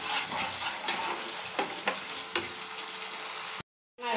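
Spices and paste stir-fry in a pan with a dense, constant close sizzle, punctuated by several sharp scrapes of a spoon against the metal, then a brief drop to silence near the end.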